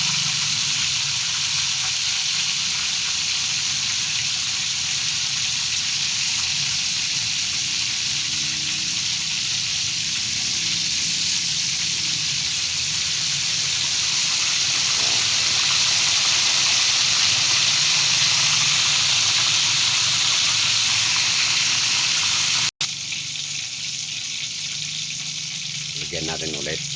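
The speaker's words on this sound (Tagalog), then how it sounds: "Binubuhusan ko siya ng tubig." Pork leg for crispy pata sizzles loudly and continuously in hot oil as water is poured over it, a dense steady frying hiss lasting the whole stretch with a brief dropout near the end.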